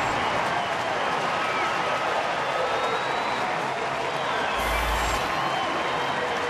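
Baseball crowd at Target Field roaring and applauding after a home run, a sustained, dense wall of cheering and clapping heard at a distance with no break through the whole stretch.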